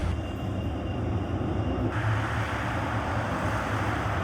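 A tram rumbles steadily through a tram station in Leipzig, a loud and continuous rolling noise of wheels on rails with no voices.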